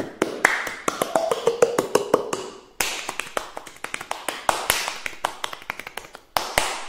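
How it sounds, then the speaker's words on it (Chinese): Bare palms slap the body in a fast, irregular run of sharp percussive smacks, loud and close, with varied tones from different spots on the body and no talking. "用我的巴掌拍出什么样的音色来"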